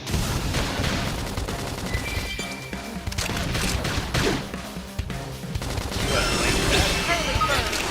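Combat in Xenoblade Chronicles X erupts in a continuous barrage of gunfire, crashes and impacts, loud and layered, with bursts overlapping and a brief lull midway before the battle noise swells again.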